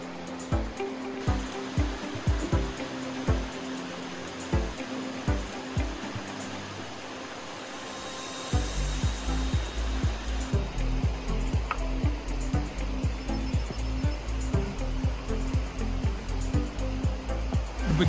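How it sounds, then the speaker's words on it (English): A creek flows through a gorge on the Appalachian Trail as a continuous rushing wash of water, joined partway through by a heavier low rumble and a steady run of footsteps or thumps along the crossing. "Crossing the creek down in the gorge."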